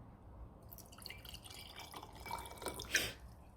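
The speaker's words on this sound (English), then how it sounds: "I'm going to now pour in Kangen water." Ionised water trickles and drips into a cup holding a tea bag, starting faint and building to a brighter splash near the end, quiet and close.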